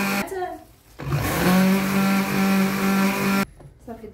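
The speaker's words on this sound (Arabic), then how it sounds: "دابا غنطحن طحن." An electric blender grinds cake batter ingredients at home, a loud steady whirring whine running for about two seconds before cutting off abruptly, with a voice speaking before and after.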